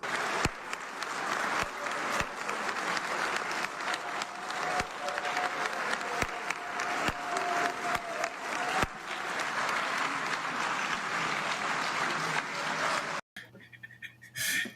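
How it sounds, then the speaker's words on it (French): A crowd applauds after a presidential election result is proclaimed, giving a steady, moderate ovation with scattered sharp claps over the top before it cuts off abruptly near the end. "Ils applaudissent froidement."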